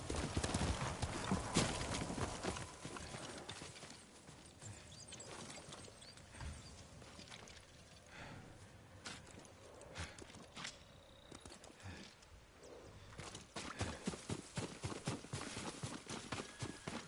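Hooves clip-clop steadily from a horse in Ghost of Tsushima, a brisk repeated clatter up close that eases off midway, then picks up again toward the end, with no voices over it.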